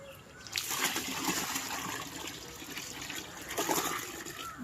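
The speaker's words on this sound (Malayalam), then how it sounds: "ഇനി ഇതിനകത്ത് കുറെ കൂടെ വെള്ളം ഒഴിച്ച് വെക്കുക" Water pours and splashes into a container of fertilizer mix for spinach, a steady gurgling rush that swells at the start and again near the end, with no talking.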